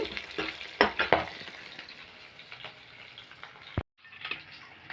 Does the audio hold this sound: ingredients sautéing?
yes